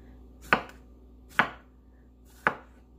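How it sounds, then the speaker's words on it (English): Three knife chops through pineapple on a cutting board for spicy pineapple strawberry salsa, spaced about a second apart, each a sharp close thunk with a short tail, with no talking in between. "Don't judge me too harshly on how I chop things up."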